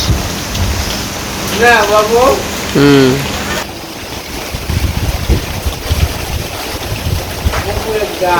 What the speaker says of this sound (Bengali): বৃষ্টি এরকমই সেটা ফোটা সেটা ফোটা খালি বৃষ্টি বেশিও না কমও না এরকম বৃষ্টি